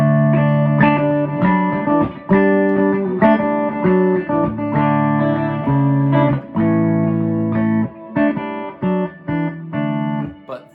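An electric guitar riff is played on a Fender Telecaster with a miswired pickup, giving a thin, telephone-like tone; the choppy notes and chords are close and loud, with short gaps between phrases.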